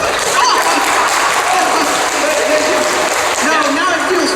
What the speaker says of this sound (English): give it a clap